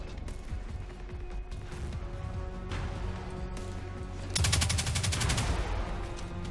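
Gunfire from an enemy firefight in the video game Destiny 2, a dense rattle of rapid shots under game noise that swells into a louder, faster burst near the end.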